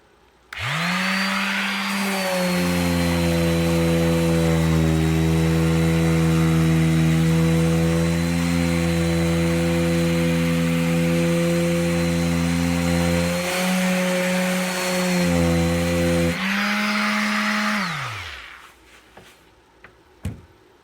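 A Hammerhead 1.4-amp multi-function detail sander starts up and runs at a steady, loud, buzzing drone with a strong hum, dips briefly partway through, then spins down and stops, leaving near silence.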